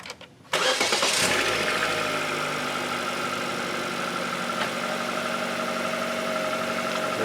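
A 2013 Chevrolet Spark's engine cranks briefly and catches, then settles into a steady, loud idle that runs alone to the end, with no talk over it.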